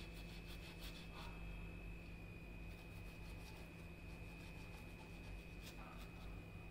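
A brush dipped in white vinegar scrubs the inside of a Voltas Beko dishwasher in faint, rhythmic rubbing strokes over a low constant background hum, with no speech.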